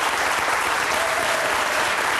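A studio audience claps steadily and loudly throughout, dense applause from a crowd with no break.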